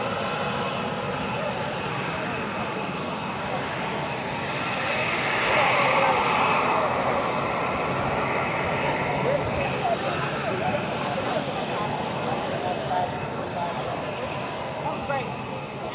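F-22 fighter jet taxiing on the ground at Joint Base Langley-Eustis, a steady loud roaring whine that swells in the middle and persists throughout, with people talking nearby.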